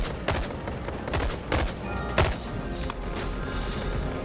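Submachine guns fired in the Boneworks VR game, several short bursts of loud gunfire with sharp cracks spread across the clip, alone with no talk.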